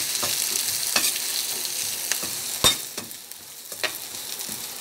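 Capsicum and chopped carrots stir-fry in a pan with a soft sizzle beneath them, broken by repeated spatula scrapes and one sharp clink, heard up close without voices.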